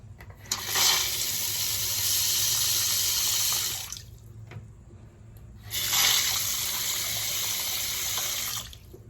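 Water gushes from an old three-handle Delta faucet into a sink in two loud, steady runs of a few seconds each, separated by a brief pause where the flow is shut off.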